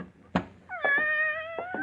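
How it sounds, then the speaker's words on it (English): A tortoiseshell cat lets out a clear, drawn-out meow close by, a long tonal call that wavers slightly, after a brief thump. "Philip, you didn't tell me you had a cat."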